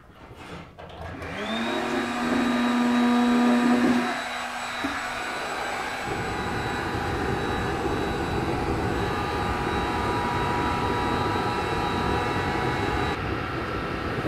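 A crude homemade two-piece waste oil burner runs on kerosene: a brief rising whine at ignition gives way to a loud, steady, even roar that holds for the rest of the clip.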